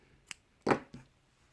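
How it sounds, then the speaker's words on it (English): Scissors snip off crochet yarn at close range: a light click, then a sharper, louder cut, then a softer closing snip, all in quiet surroundings. "And we snip off our yarn."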